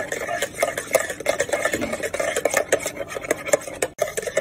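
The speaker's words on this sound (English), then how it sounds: "And mix it nicely." A spoon stirs milk into pancake batter in a bowl, making a steady, close scraping and swishing with rhythmic strokes and light clinks against the sides.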